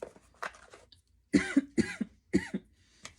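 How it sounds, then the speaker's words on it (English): A person coughing several times in short, sharp bursts close to the microphone, with a brief throat clear at the start. "Confirmation cough, okay?"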